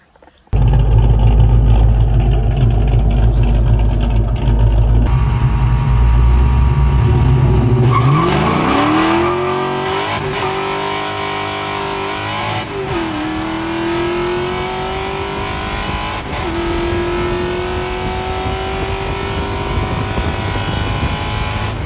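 A Ford Foxbody Mustang roars down a drag strip, a loud engine first revving hard, then climbing through several gear shifts with rising whine, the sound staying close and powerful throughout.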